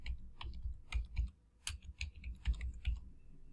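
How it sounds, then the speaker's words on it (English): Short bursts of keystrokes on a computer keyboard as a name is entered, a quick uneven run of close clicks with a brief pause midway, fairly quiet. "then I go here and I type Marlene's name"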